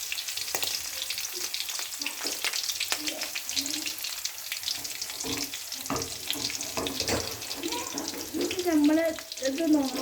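Jackfruit curry fries in a pan with a close, crackling sizzle full of quick popcorn-like pops, while a faint voice comes through toward the end.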